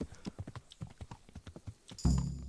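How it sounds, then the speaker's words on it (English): Horse hooves in the video game Kingdom Come: Deliverance, a brisk run of clip-clops from a ridden horse moving down a stream, ending in a sudden louder burst of noise. "Ride on a horse down a stream."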